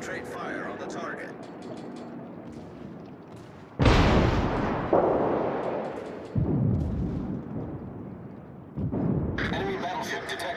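Warship guns fire at a target in a naval battle game, four heavy booming salvos spaced a few seconds apart, each loud and rolling out over a low background rumble.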